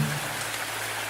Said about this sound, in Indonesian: angkat jemuran, hujan